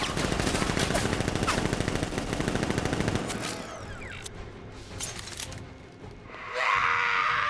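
Gunfire rattles in the video game Batman Arkham Knight as a dense, rapid automatic burst that runs for about three seconds. Scattered shots and impacts follow, and a hissing blast closes the clip.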